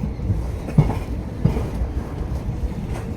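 A passenger train pulling out of a station on the route to Okha, a steady close rumble of wheels on rails with faint rhythmic clacks over the track joints and no talk.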